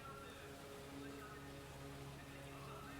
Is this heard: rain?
yes